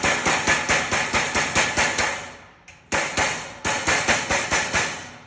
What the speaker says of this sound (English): Once you've seen about a 1/4 inch or so on that lip, you should be good to go ahead and pound that over